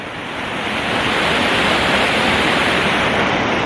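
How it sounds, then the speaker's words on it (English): Water pours steadily down a railway tunnel ventilation shaft at a few gallons per minute, a dense, even roar of falling water close by, swelling slightly at first and then holding constant. "There's a fair bit of water going down there."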